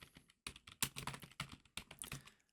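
Keys clatter on a computer keyboard in quick, uneven bursts as a new file name gets typed, each press sharp and close, with short pauses between runs of strokes and no voices.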